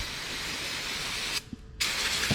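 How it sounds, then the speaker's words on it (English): Brake parts cleaner sprayed onto a caliper bracket during a front brake job on a 2013 Scion tC, a loud, close, continuous aerosol hiss that breaks off briefly and then resumes. "Give this a quick spray down with some brake parts cleaner"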